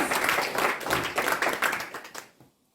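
Congregation applauding in a church, a dense burst of hand clapping that holds steady for about two seconds, then thins out and fades away.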